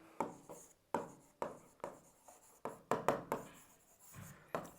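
Chalk or marker strokes on a board during a Class 11 physics lecture on vector addition, a dozen sharp, close taps and short scrapes in an irregular rhythm with brief pauses between words, no talking.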